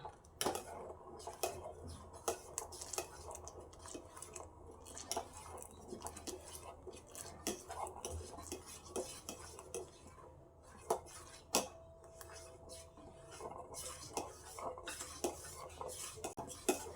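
A spoon stirs custard into milk in a pot with repeated scraping and clinking against the metal, close and fairly quiet, with soft kitchen ambience.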